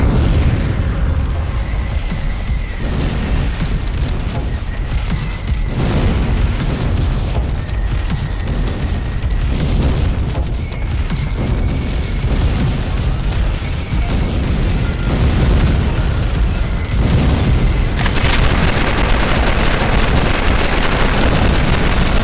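Dense, continuous gunfire and booming explosions from the space combat game Starforge, loud and relentless throughout with no pauses.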